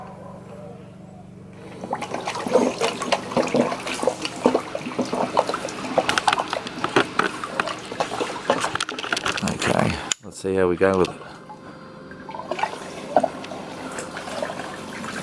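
A 12-volt portable pulsator gemstone jig for sapphire starts running with water, giving trickling, sloshing and gurgling liquid sounds with pump noise, near and steady, while someone talks over it.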